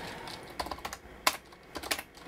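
A computer keyboard clatters in short uneven bursts of keystrokes, close and clear, with one louder key press midway and no talking.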